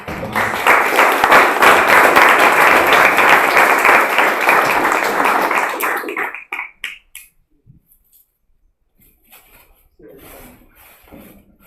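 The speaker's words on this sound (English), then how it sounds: "maybe you can give a round of applause" Audience applause at a startup talk event welcoming the speaker, loud sustained clapping for about six seconds that stops abruptly, followed by near silence and faint scattered sounds.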